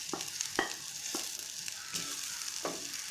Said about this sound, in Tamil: இப்போ இது கூட நம்ம ஏற்கனவே வதக்கி வச்சுருந்தா இஞ்சி ஆட் பண்ணிக்கிறோம்